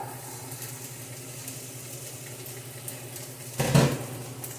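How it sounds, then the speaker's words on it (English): Onions sautéing in a little vegetable oil in a pan for Beijing beef: a soft, steady sizzle under the quiet kitchen hum, with a brief louder scrape of a utensil against the pan near the end. "we're going to saute our onions"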